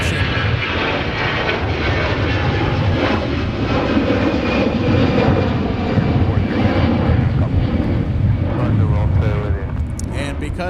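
Airliner engine roar at Minneapolis–St. Paul airport on a windy day, a loud continuous broadband rumble with wind buffeting the microphone throughout, and a voice speaking faintly underneath.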